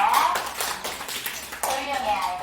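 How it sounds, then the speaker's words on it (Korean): A group of children in a Korean classroom clap together, a dense burst of hand claps under a teacher's voice, fading in and out across the moment. "우리 친구들 다 같이 박수 쳐볼까요?"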